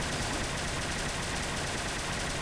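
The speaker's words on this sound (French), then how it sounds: "C'est un bazooka, ça tire comme ça." Modded heavy weapon in Fallout 4 firing Liberty Prime ammunition, a dense unbroken wall of loud, close blasts with no gaps or pauses, no voice over it.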